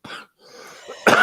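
Robin gives a short cough, a pause, then a breathy rasp and a sharper, louder cough at the end, all close and clear during a casual smoke and chat session.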